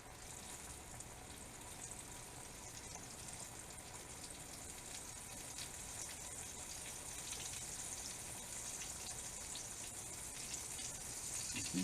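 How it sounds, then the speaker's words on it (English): Green tomato slices fry in a pan in a Southern kitchen, giving a soft, steady sizzle and crackle that continues evenly throughout, faint and with no talking over it. "That sizzle of that tomato frying up right there."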